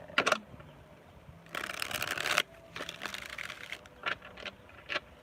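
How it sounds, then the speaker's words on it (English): Tarot cards being shuffled by hand close up, a series of crisp riffling and flicking bursts, one longer run in the middle and shorter snaps after, with no talking. "One more shuffle."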